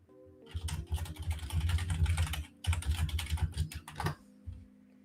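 Rapid typing on a computer keyboard clatters close and steady in two bursts with a short pause between them, keys clicking densely with no talk.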